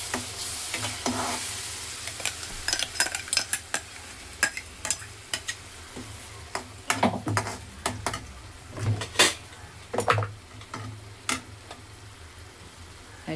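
Onion masala with tomato puree sizzles steadily in a pan, while a spoon stirs and scrapes in irregular clanks and scrapes, close and moderately loud, with no talking.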